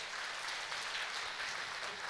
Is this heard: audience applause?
yes